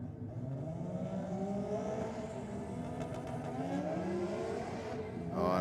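Toyota Supra drag car at a Sydney Dragway meet, engine roaring steadily as it runs down the strip, loud and sustained with shifting pitch bands, louder burst at the end.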